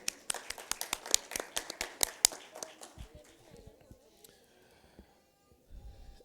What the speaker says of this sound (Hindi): एक बार फिर से उनके लिए तालियां बजा दीजिए।